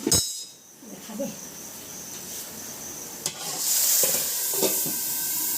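Onions and leafy greens hit hot oil for a tempering, crackling and sizzling loudly with a bright steady hiss, with stirring scrapes in between and a sharp burst as the hiss swells near the end.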